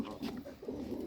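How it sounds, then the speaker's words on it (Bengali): Bombay pigeons coo in a steady, low murmur, a pair of domestic pigeons kept with their young, the soft throaty calls continuing without a break and heard fairly close. "এই যে দেখুন অনেক সুন্দর এক জোড়া কবুতর, এটা হলো বোম্বাই কবুতর।"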